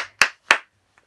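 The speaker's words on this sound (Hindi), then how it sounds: "तालियां।" Two sharp, close hand claps at a steady beat, with a faint third tap trailing after, during a guess-the-drink challenge.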